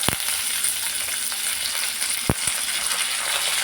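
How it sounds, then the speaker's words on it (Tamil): Onion sautéing in a pan with curry leaves and coriander added for Kovai-style sambar, a steady bright sizzle with two sharp clacks of a spoon, no talk. "இப்போ கருவேப்பிலையும் மல்லித்தலையும் இதில் போட்டுருவோம்."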